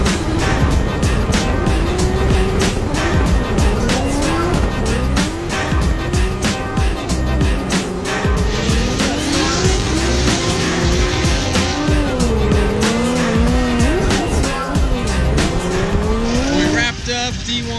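A drift car in a D1 competition round slides hard with sustained, loud tire squeal over a roaring engine whose pitch sweeps up and down throughout, continuous and close.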